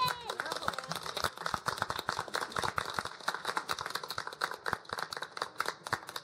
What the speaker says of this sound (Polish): Wielkie brawa, drodzy Państwo.